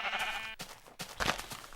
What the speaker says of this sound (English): to find a brown sheep, which really aren't all that common in this game